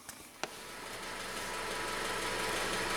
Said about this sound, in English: Got the vehicle warming up.